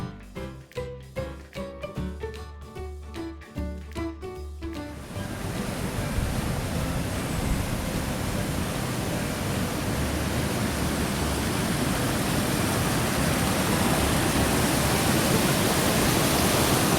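A stream in Jasper National Park rushes steadily as a loud, broadband wash of flowing water, arriving after a few seconds of music and continuing unbroken.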